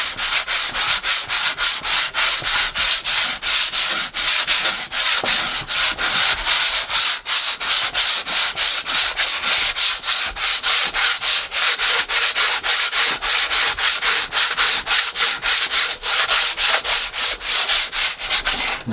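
A sanding block works over a cyclekart nosecone in steady, loud rhythmic back-and-forth strokes, a close gritty rasp repeating evenly throughout with no voices.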